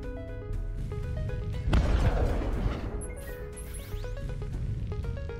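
Frag card explosion in the space combat game Breachway: a sharp boom bursts out mid-clip and fades over a second or so, over a continuous layered game soundtrack.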